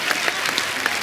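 A TV comedy talk show studio audience breaks into a short burst of dense, steady clapping.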